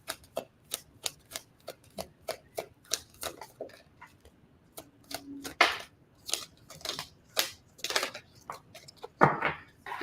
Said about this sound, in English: Brittany, let me shuffle on you and Brian.